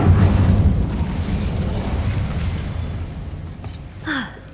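An Incendio fire spell bursting in Hogwarts Legacy: a loud whooshing blast of flame that roars and then slowly fades, followed by a brief faint vocal sound near the end.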